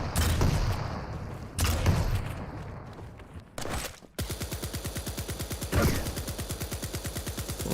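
Quake duel gunfire: a few heavy blasts and bursts early on, then a long, rapid, evenly spaced train of weapon shots, loud and continuous, with no talking.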